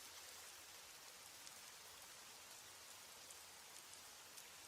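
Steady rainfall, a faint even hiss of drops with soft scattered patters, continuous and alone.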